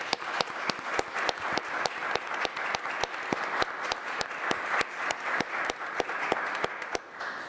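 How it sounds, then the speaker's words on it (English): A small audience at a school committee organizational meeting claps, with distinct individual claps in a fairly regular rhythm for several seconds, moderately close and without talk. "we like to give him a round of applause."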